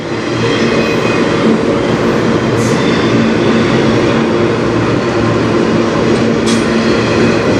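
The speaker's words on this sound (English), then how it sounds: "If there's any train gonna have them, it's this one." Freight train rolling past on the Strathroy Subdivision in Ontario, a steady loud rumble of wheels and railcars holding constant for the whole stretch, with faint squeaks riding over the continuous roar.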